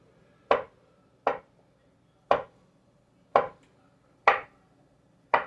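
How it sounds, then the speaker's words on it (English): Knife chopping soft cooked vegetables on a board for skillet chicken and dressing, six crisp, evenly spaced thuds with short pauses between, close and clear with no talk. "Let me chop these first."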